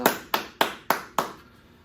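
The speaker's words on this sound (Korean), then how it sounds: "하나님께 영광의 박수" Five evenly spaced claps ring out one by one in a church service, praising God at an elementary children's joint worship. The claps are moderately loud and close, each followed by a short room echo.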